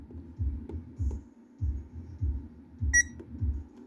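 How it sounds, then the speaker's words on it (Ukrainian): A short electronic beep from a mini washing machine that will not start rings out once amid a steady low pulsing hum, with a faint click or two nearby. "вона пікає, але нічого не запускається."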